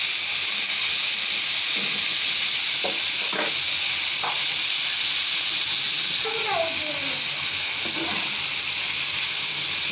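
Bitter gourd fries in a pan with a loud, constant hissing sizzle, with a few scattered clinks and scrapes rising over it and no clear talk.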